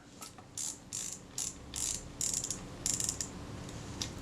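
Small mechanical clicks and ratcheting from a Kodak Retina II type 142 camera as its shutter release is tightened during a strip down, coming in about eight short, crisp bursts in an irregular rhythm, close up against quiet background.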